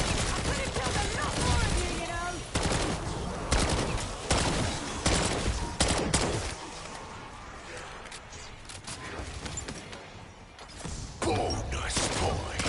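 Rapid video-game gunfire from Shattered Veil crackles in dense bursts with mechanical clatter, loud and busy throughout, with a player's voice talking over it at times.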